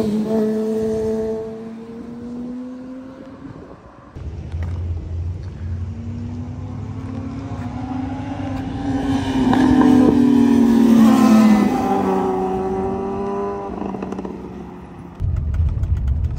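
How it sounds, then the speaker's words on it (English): A truck pulling out of a parking area at the entrance to an off-road park in Azusa Canyon, its engine rumbling near and loud, then revving and rising in pitch as it pulls away, with no talking. "here's a guy pulling his truck out right here"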